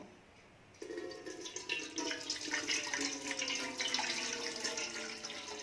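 Sugar syrup is strained into another pot, pouring steadily in a continuous splashing trickle that starts abruptly and runs on at moderate volume.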